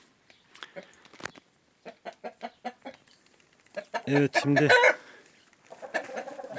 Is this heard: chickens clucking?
yes